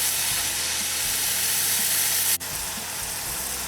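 Stir-fry sizzles steadily in a de Buyer carbon steel pan, a dense, even frying hiss that holds loud and close throughout with one momentary dip.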